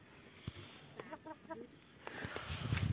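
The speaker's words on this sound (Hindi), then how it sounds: "यहाँ पे ये मुर्गियों का घर" Chickens and a rooster at a chicken house in a Kinnaur village, a few short clucks spaced out over quiet rural background with faint distant voices.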